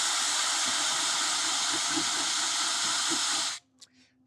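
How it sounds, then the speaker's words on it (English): Wet sanding of a glazed, kiln-fired pottery piece on a fast-spinning wheel gives a steady, loud abrasive hiss that stops abruptly near the end, leaving only faint handling noises. "I just apply downwards pressure to sand this to get it smooth"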